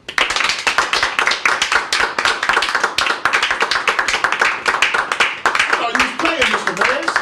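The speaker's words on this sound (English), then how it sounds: "Producer told me, clap my hands." Hands clapping repeatedly in a quick, steady rhythm at close range, while voices talk over the claps during a live-streamed elimination game.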